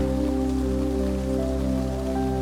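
Rain falling in a steady, even patter over a soft sustained drone, with an unbroken wash of drops throughout and no voices.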